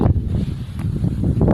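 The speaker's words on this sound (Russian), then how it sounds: "ветер сегодня вообще фигать" Strong wind buffets the microphone outdoors near an abandoned house during a coin-digging outing, a loud, continuous low rumble with gusting swells and no talk.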